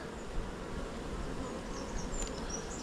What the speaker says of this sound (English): they're lovely calm bees